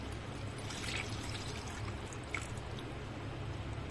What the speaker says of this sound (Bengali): মশলা দিয়ে করা যে পানিটা ছিল ওইটা দিয়ে দিচ্ছি আমি